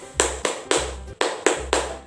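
Rhythmic hand clapping in a fifth-grade classroom clap game, sharp claps in uneven groups of one, two and three, close and clear with no talk.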